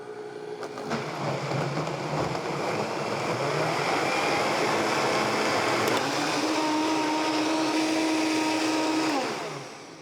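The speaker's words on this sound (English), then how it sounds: "so this was about 5 minutes in the really super powerful blender" A very powerful blender whirs through rice and canela for a Mexican drink, a loud, steady roar that climbs in pitch as it speeds up, holds at high, then cuts off near the end.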